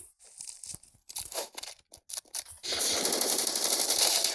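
Bursts of automatic gunfire from a mobile shooter video game: several short separated rattling volleys, then a sustained dense stretch of rapid fire filling the last part, loud and close with no talk over it.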